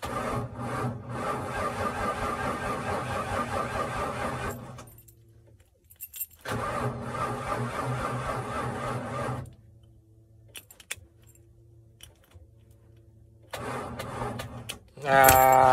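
A Ford Bronco engine cranking on a weak battery, several long labored churning starter bursts separated by pauses, without catching, and no talk.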